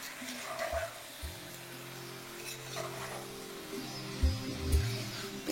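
Chicken and onions frying in a pan for chicken pulao, a soft continuous sizzle with occasional stirring scrapes and a couple of louder knocks near the end, close but quiet, with no voices.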